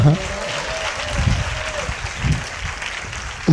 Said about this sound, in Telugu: చప్పట్లతో ప్రభుని గలపరచండి మనసారా గట్టిగా కొడతగలరా